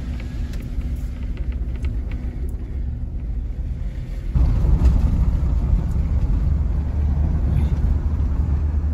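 Engine rumble of a 4x4 vehicle, such as a Ford Endeavour, driving a snowy winter mountain road in Spiti Valley, a low continuous drone with wind noise that grows louder and heavier about halfway through.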